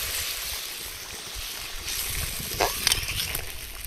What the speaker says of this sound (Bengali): ঢাকাটা তুলে নেব আর গ্রেভিটা দেখুন খুব সুন্দর ফুটে উঠেছে